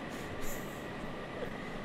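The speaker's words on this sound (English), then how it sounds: "This train is going off the rails." A space train rolls along in the video game Scrap Mechanic, giving a quiet, steady rumble that stays constant throughout.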